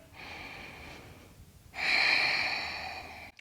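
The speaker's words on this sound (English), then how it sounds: "One deep breath here." Someone holding a yoga pose draws one slow, airy inhale and then lets out a longer, louder exhale, both close and unvoiced.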